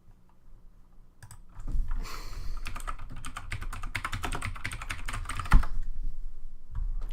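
Rapid clicking keystrokes on a computer keyboard, typing a search into a toy store site, run in dense bursts for several seconds, close and fairly loud over a low steady hum.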